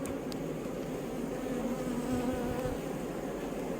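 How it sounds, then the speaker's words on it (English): Honey bees buzz steadily around a backyard hive, a dense, continuous droning hum heard up close at moderate volume with no talking. "The bees are nice. They're not being defensive yet."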